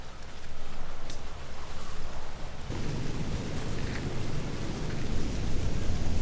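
Steady rain falls outdoors as a dense, even hiss that thickens slightly partway through and keeps going throughout, with no voices.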